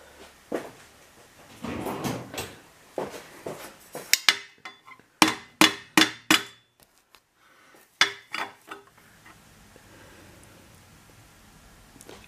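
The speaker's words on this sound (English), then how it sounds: "I'll just get a soft hammer." A soft hammer taps a Zard exhaust into place on a Ducati XDiavel in a series of sharp, separate knocks, some in quick bursts, close and fairly loud, with quieter handling noise between them.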